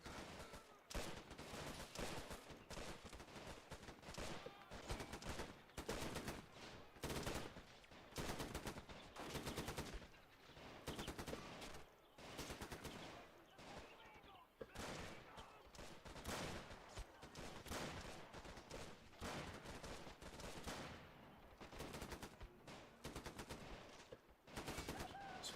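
Machine gun fire in a Robz Mod match from a real-time strategy game, with dense, sustained bursts of automatic gunfire rattling almost continuously, interrupted by brief gaps, steady and fairly loud.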